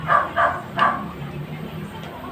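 Three sharp dog barks in quick succession near the start, then fainter yips trailing off over a low background hum.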